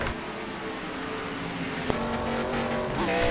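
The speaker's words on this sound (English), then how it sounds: "you can see as he's exiting the pits now, here comes that group of cars here with a huge head of steam" Race cars in a superspeedway racing video game roar out of the pits, a dense, steady engine drone with pitch shifts as the group passes, loud and continuous, with a brief tone swell near the end.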